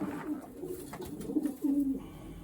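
A racing pigeon in a loft coos in soft, low, repeated phrases, close by and fairly quiet, with no talking over it.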